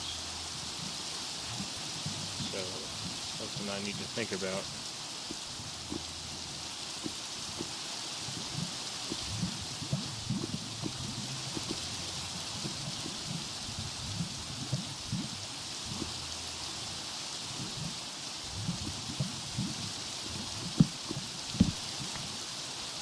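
Steady hiss of rain falling in a Minecraft world, a soft continuous wash with scattered drip-like patter, heard alone at an even, moderate level for the whole stretch.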